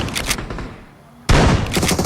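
Shotgun blasts from the BGMI mobile battle royale game ring out loud and dense, a burst of shots, a brief quieter lull, then another heavy volley of booming fire.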